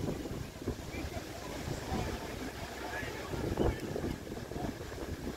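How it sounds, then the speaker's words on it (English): Wind buffets the microphone in steady rumbling gusts, a loud broad roar that swells and eases, with muffled voices faintly underneath. "Fairly windy here today."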